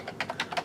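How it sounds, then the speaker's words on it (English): Quick keystrokes on a computer keyboard, about five or six soft clicks in an uneven rhythm, close and fairly quiet with no voices. "What are you typing?"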